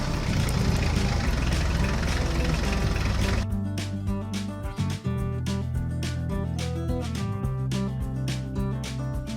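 A yellow tractor's engine runs loud and steady close by, a dense low rumble that changes character partway through, with no voices.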